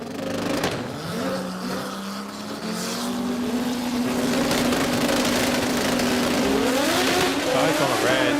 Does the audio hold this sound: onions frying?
no